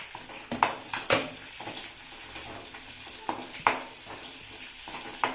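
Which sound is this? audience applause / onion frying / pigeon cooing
onion frying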